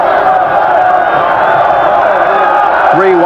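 A large crowd roars steadily through an evening football game at the Liberty Bowl in Memphis, Tennessee, between the Memphis Showboats and New Jersey Generals, a dense continuous din under a commentator's voice.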